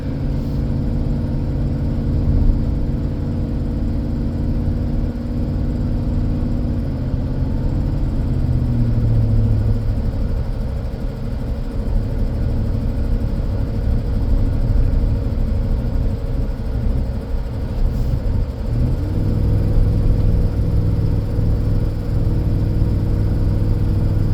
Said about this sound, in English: just listen and see if you can hear that exhaust noise